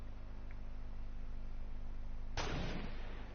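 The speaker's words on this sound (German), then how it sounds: "Ein Schuss gemacht" A single sharp gunshot in the video game Fortnite cracks out near the end, loud and close, over a steady low game hum.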